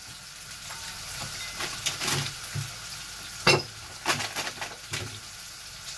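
Food sizzles and crackles in a pan at a modest level, broken by occasional sharp scrapes and clinks of stirring.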